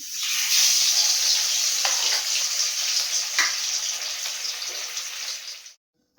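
Fish sizzles in hot mustard oil in a kitchen pan, a loud, steady hiss of frying that runs without talk and then cuts off abruptly near the end.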